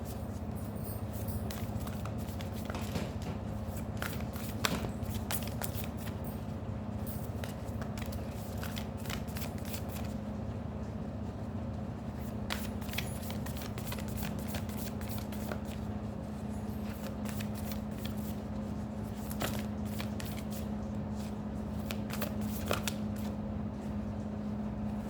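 A Moonology oracle card deck is shuffled continuously by hand, a soft, steady riffling patter close by that runs the whole time with no talking.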